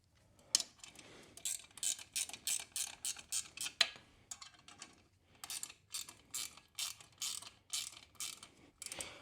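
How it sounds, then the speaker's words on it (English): A ratchet wrench tightens exhaust bolts on a Honda CTX700 motorcycle, giving quick bursts of rapid clicking strokes, close and fairly quiet, in two runs separated by a short pause. "So I'm going to go ahead and just get this tightened up."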